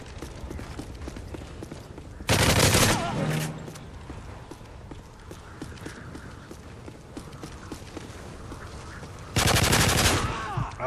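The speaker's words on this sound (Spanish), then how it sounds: "La fabulosa P90 y su cargador tan amplio." Two loud bursts of P90 submachine gun fire from Call of Duty: Modern Warfare 3, each rapid string lasting about a second, separated by quieter game sounds and faint background noise.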